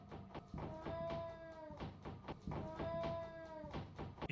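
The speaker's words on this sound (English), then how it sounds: "the low sound his cat makes, as if she is truly terrified" A pet cat gives low, drawn-out, terrified moaning yowls, two long wavering calls that are faint and unaccompanied by speech.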